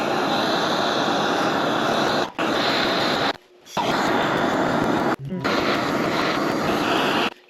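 A propane torch heats the harmonic balancer on a Jeep YJ's crankshaft, a steady loud roaring hiss that runs almost continuously, broken by a couple of brief gaps where the flame cuts out.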